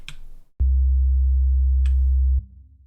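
A clean, deep synth sub-bass note holds steadily for about two seconds, framed by brief bright electronic hits before and after.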